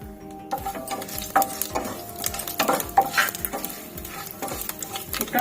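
Dried red chillies and bay leaves tempering in hot oil for matar aloo curry, a continuous crackling sizzle with sharp pops and occasional metal utensil clinks against the pan.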